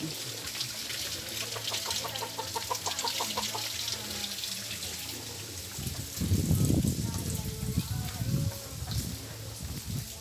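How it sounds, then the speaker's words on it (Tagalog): Chickens cluck among steady running spring water on a mountain and background noise, with people talking nearby. "So may mga manok dito."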